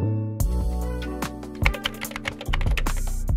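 Typing on a computer keyboard, a close run of quick key clicks with uneven rhythm and a few heavier strikes, heard alone without talk.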